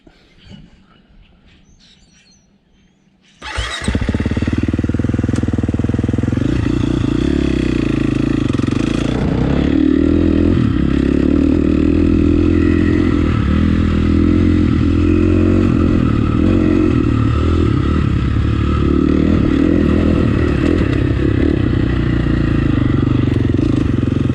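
A KTM 350 SFX dirt bike, converted for woods riding with a remapped ECU, starts up loud and close after a quiet moment. Its single-cylinder engine then drones and revs steadily throughout, with no voices.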